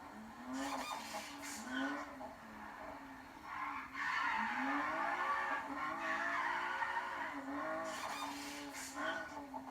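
Engine noise and tire skids from a car driven off-road in the video game Need for Speed Payback, with revving swells and scraping slides, steady and fairly loud throughout.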